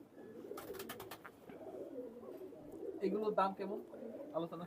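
Teddy pigeons cooing in a loft, soft repeated low coos mixed with some wing and cage rustling, nearby and fairly quiet, with a person talking over them.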